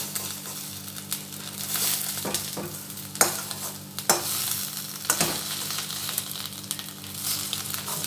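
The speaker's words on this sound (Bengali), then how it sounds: "খুন্তি দিয়ে কেটে কেটে ছোট ছোট পিস করব।" A metal spatula chopping a fried egg into small pieces in a frying pan, with repeated sharp scraping and knocking strokes over a steady sizzle, close and fairly loud.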